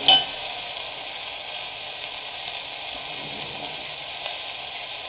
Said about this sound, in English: Here you can see it's getting sauteed.